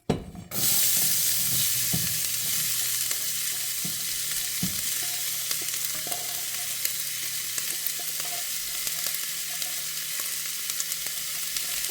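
Chopped onion hitting a hot pan as the first step of a Sunday meat sauce, a steady close sizzle with occasional stirring scrapes, no talking.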